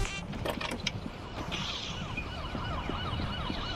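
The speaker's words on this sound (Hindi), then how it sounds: "भाई पुलिस आ रही है, पुलिस आ रही है।" A police siren during a three-star wanted-level chase in the Gangster Vegas video game wails up and down and grows more prominent over clattering vehicle and mechanical noise, after a few sharp knocks at the start.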